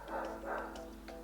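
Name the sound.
neighbor's dog barking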